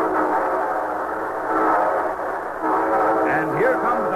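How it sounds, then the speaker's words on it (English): A train sound effect for a radio show rumbles steadily nearby, loud and continuous, with a horn-like tone rising near the end. "And here comes our star-studded show train."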